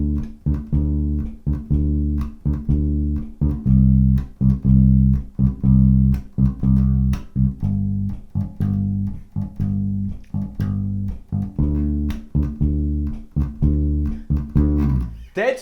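A low, steady bass line of plucked notes repeats in an even rhythm, each note ringing briefly before the next, played alone and up close.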